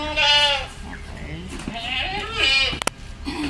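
A goat bleats loudly several times in a wavering, drawn-out cry, close by, with a couple of brief knocks near the end.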